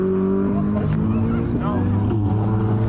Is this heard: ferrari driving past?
yes